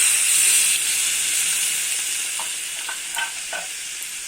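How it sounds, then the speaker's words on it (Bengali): A spoon stirring prawn and brinjal curry in a pan after water goes in: a hissing, steaming sizzle that eases off, then several distinct scrapes and taps of the utensil near the end, with no voices. "একটু নেড়ে নেবো জল দিয়ে।"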